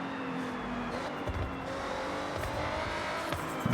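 A car cruises at moderate pace in the racing game Forza Horizon 6, with a steady, close engine drone and road noise running unbroken throughout, with no talking.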